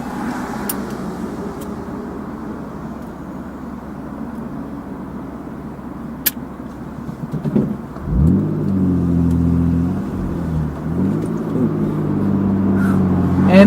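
A car rolls slowly through a 7-Eleven parking lot on a rainy day, a low engine rumble with road hiss that swells as it accelerates toward the end.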